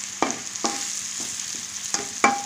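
Mutton pieces fry in hot oil in a pan for a mutton and brinjal curry, a steady close sizzle broken by four sharp scrapes of stirring at irregular intervals, with no one talking.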